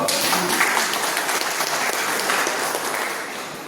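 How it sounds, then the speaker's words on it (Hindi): Audience at a success seminar in Godda, Jharkhand breaks into brisk, dense clapping, a loud continuous burst that stays strong and then eases off slightly. "ताली तो मारो"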